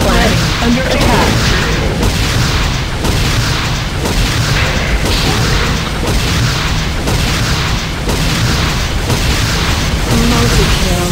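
Explosions tearing through a Nod power plant in the Renegade video game: a dense, continuous barrage of heavy booms and bursts, loud and close, with game voice announcements layered over the rumble.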